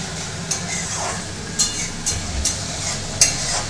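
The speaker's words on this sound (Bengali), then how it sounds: "কি বানাচ্ছিস তিন্নি? রাই খয়রা মাছের ঝাল।" Rai khoira fish curry cooks in a pan, a steady sizzle with stirring scrapes and a few sharp metallic clinks of a utensil against the pan, close and fairly loud.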